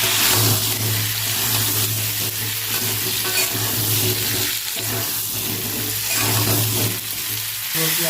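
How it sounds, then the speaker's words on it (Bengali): Potato and cauliflower pieces with salt and turmeric fry in hot oil in a wok for vegetarian khichuri, giving a steady, loud sizzle with the scrape of stirring throughout. "আলু ফুলকপি ভালো করে দিয়ে দেবো লবণ, হলুদ দিয়ে ভালো করে আলু আর ফুলকপিটা ভেজে নেব।"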